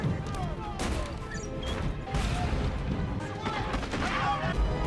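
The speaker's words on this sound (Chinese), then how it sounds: "外面的炮声隆隆" Cannon fire in a ship battle scene from the historical TV drama John Adams, with heavy, repeated booms and crashes that blend into a dense, continuous roar while voices are heard in the mix.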